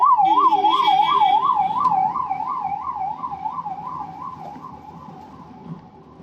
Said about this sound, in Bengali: পেছনে অ্যাম্বুলেন্স আছে ভাই